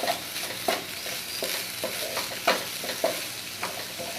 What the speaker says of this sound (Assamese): এতিয়া এইখিনি ভালদৰে ভাজি ল'ম।